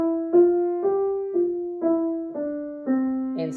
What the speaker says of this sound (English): Legato tells you with a slur that you are going to connect the notes smoothly.